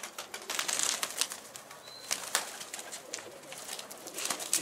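Wings flap and scuffle from a caught pigeon held close, irregular bursts of fluttering with small rustles between them, fairly quiet and with no talk.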